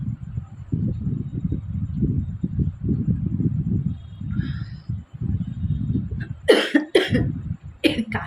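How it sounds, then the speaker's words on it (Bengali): A person coughs repeatedly during a playful sneezing challenge with black paper, with a run of low, muffled coughs followed by a few sharper, louder bursts near the end, close to the listener. "কাশি আসছে বলে আর হাঁচিটা আসছে না।"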